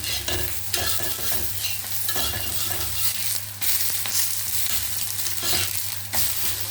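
Tomato omelette eggs frying in a pan give a steady, loud sizzle, broken by repeated scraping stirs of a spatula, with no talking.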